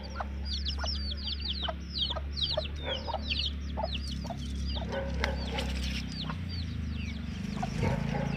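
Chickens cluck in a rhythmic series of short calls in a village flock of about twenty to twenty-five birds. Steady low background noise runs beneath them, and no talk is heard.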